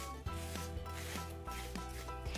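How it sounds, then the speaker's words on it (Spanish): A dry cloth rubs across sanded wood to clear away the dust before decorative painting, producing a steady close scrubbing swish in repeated back-and-forth strokes, with no talk. "Dejamos la lija con un trapito seco, retiramos todo el polvillo"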